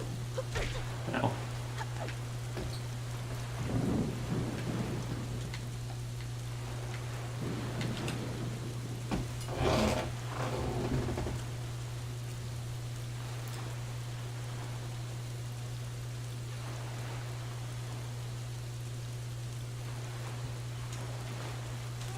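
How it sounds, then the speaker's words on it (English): Rain and a thunderstorm in the video game The Wind Waker HD: a steady rain wash runs throughout, with a constant low hum beneath it and a few louder rumbling swells that could be thunder. "Because all this rain is going to get in there."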